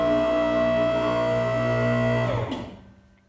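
An electric car lift hums steadily as it raises a 1973 Camaro in a garage, a continuous motor drone that stops and fades out near the end.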